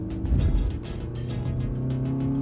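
Cars in road traffic, a loud engine rumble close by with a swell of passing vehicles and tire noise, steady throughout with no talking.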